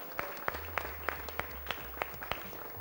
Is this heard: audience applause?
yes